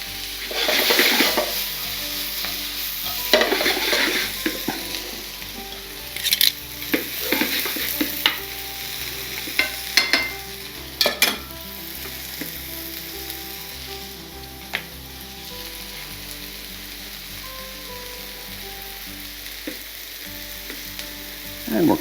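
Onions and garlic sizzle loudly in a hot pan for chicken marsala on a small stove turned to full, a steady crackling fry with scattered sharp pops and a few stirring scrapes, close and continuous throughout.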